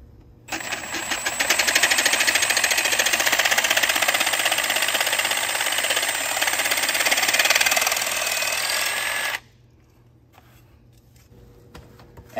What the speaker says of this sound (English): that's where we're running the screw in to the 2x6